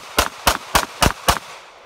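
Five sharp gunshots from an Avidity Arms PD10 pistol fired down range in an evenly spaced string about a quarter second apart, loud and close, each with a short ringing tail.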